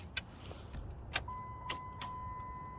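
A key turns to the on position in a Cummins-powered truck's ignition: a few sharp, close key clicks, then a steady faint electronic tone that holds to the end, with no talk.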